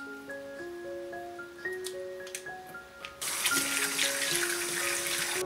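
Tap water starts running partway through, a steady near splash over soft background music, as small shrimp are rinsed in a kitchen sink before being made into tempura.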